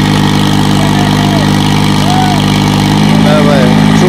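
A 2001 New Holland tractor runs with a steady, loud mid-low drone as it works a super seeder, with people talking over the engine throughout.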